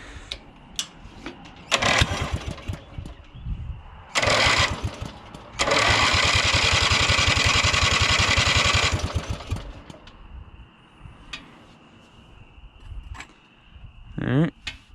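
A drag race lawnmower engine cranks repeatedly in short bursts, then catches and roars loudly for a few seconds before dying away, with quieter handling noises and a brief rising whine afterward.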